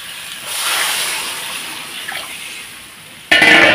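Broth is poured into a hot pan of spiced fish paste for a fish curry, a soft rushing pour that swells and fades, then a sudden loud sizzling splash near the end.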